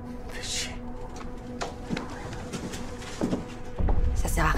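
Birds call in the open, with a dove cooing and short chirps scattered throughout, moderately near, before a low rumble rises near the end; faint speech is mixed in.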